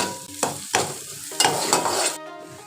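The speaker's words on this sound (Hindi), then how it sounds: "2 से 3 मिनट तक इसको मैं फ्राई कर लूँगी।" Onions and chopped green chillies frying in a pan, loud close sizzling broken by several spatula stirs and scrapes in quick bursts, no voices.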